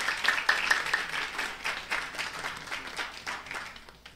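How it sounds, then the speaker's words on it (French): An audience applauds people being introduced at a public event, a clear run of clapping with audible individual claps that gradually fades toward the end. "nderson Dumano qui nous vient de Miragouane, que je vous demande d'applaudir."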